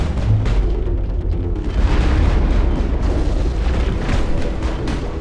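Dense rumbling blasts from rocket explosions in the video game Mass Effect, loud and continuous, with heavy low booms rolling together and crackling debris layered on top, no clear gaps between impacts.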